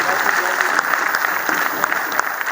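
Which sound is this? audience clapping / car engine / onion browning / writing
audience clapping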